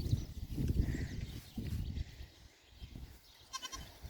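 Goats bleat at a distance over rustling and movement outdoors on a farm as they are moved to a new pen, with a few scattered calls and a faint chime near the end.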